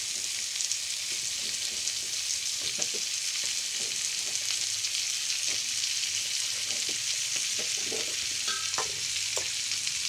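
Eggplant and okra fry in a pan with a constant bright sizzle, and a spatula scrapes and clicks against the pan in scattered strokes while the vegetables are stirred; no voices.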